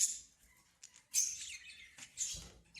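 Birds in a breeding nest box compartment holding three newly hatched chicks give high, close chirps and tweets in short bursts separated by brief pauses, with no speech.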